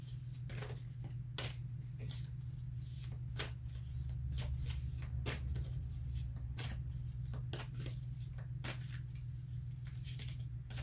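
Tarot cards shuffled by hand in a quick, steady riffle of crisp flicks and slaps against a constant low hum, with no voices.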